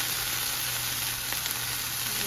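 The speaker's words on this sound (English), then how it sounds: "So we'll let these saute." Vegetables for a breakfast dish sauté in a hot pan with a constant, dense sizzle and a faint hum underneath, with no talking.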